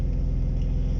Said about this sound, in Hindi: अभी गाड़ी गर्म कर रहे हैं